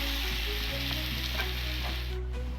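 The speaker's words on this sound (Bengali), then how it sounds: "ভাজা ভাজা ভালো করে কষলে অনেকক্ষণ ধরে কষলে মাংসটা খেতে ভালো হয়" Meat sizzles and fries steadily in oil in a pan, cooking for a Bengali meat curry, with occasional stirring scrapes over a continuous loud hiss and a low hum, no talk.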